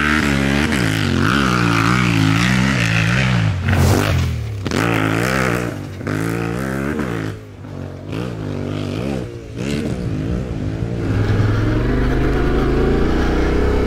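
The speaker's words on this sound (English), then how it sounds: "You want to go through the gears and get the oil into every crevice of the motor." Motorcycle engine after an oil change, revved hard through the gears at close range, loud rising and falling engine tones with short drops between shifts, then settling to a steadier drone, no talking.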